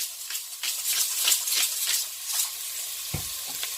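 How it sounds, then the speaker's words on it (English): Onions sauté in oil in a pan, a loud, close sizzle rising and falling in bursts as they are stirred, with a soft knock of the utensil near the end. "Onions in. I'm just going to saute these"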